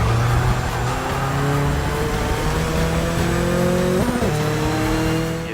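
Lotus 05 race car in a racing video game on a flying lap, its engine droning loud and steady with harmonic tones rising through gears, a brief shift or tire scrub near the end, no talking.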